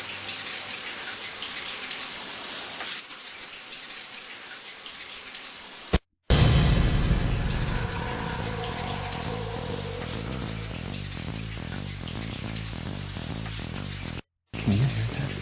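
A shower runs in the horror video game Deadly Premonition, a steady hissing spray of water broken by two abrupt cuts, with a deeper gushing burst and patterned drumming after the first gap.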